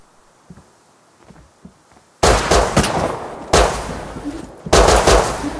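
Shotgun blasts in the Rust survival game, three loud, abrupt reports spaced about a second apart, each with a short ringing tail, following a quiet stretch with faint distant pops.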